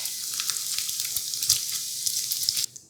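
Bacon sizzling in a pan as it fries crisp, a continuous bright hiss with crackling pops that runs steadily and then drops away near the end.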